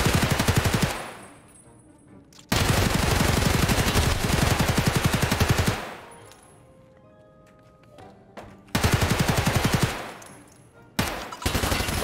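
Gunfire in Escape from Tarkov: long, loud sustained bursts of automatic fire, three main strings broken by quieter gaps with a few stray shots and clinks, no voices.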